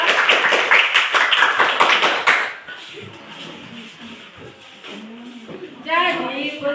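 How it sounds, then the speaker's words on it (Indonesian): A classroom of students claps for a group of classmates after their presentation on plant parts, a burst of dense rhythmic clapping that stops abruptly and gives way to murmuring and chatter. "tepuk tangan untuk kelompok 2"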